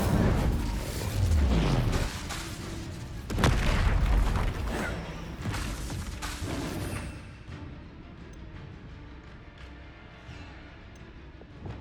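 Fire spells burst in Hogwarts Legacy with heavy booming blasts and whooshes, loudest in the first seconds and fading into a rumbling tail, while spoken spell names come through over the combat.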